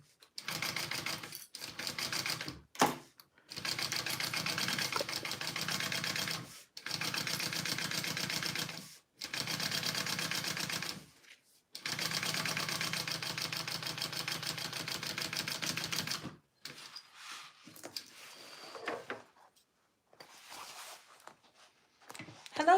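A sewing machine stitches a lining panel in several bursts of rapid needle clatter, each run a few seconds long, separated by short pauses, with quieter handling sounds at the end.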